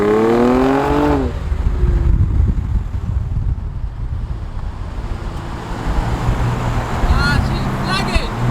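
A car running without its exhaust fitted revs sharply with a rising engine note, then accelerates into a steady roar mixed with road and wind noise. Brief higher revs follow near the end.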